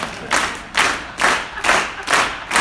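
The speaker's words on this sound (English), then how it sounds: "Let's just practice clapping on the beat." Group of people clapping together in a steady, even beat, six claps at a moderate tempo, practicing for Stars and Stripes Forever at a TubaChristmas concert, fairly close and without talking.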